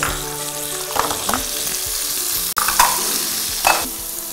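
Mint leaves fry in a pan with a steady close sizzle, broken by a few spatula stirs and a brief sharp knock partway through, with no talking.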